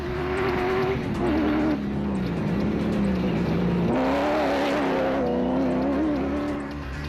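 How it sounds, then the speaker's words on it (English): A locally built BMW X3 rally car at racing speed, its engine droning loud and steady with rising and falling pitch as it revs through gears, close and continuous. "the locally built and developed BMW X3 showing an impressive turn of speed"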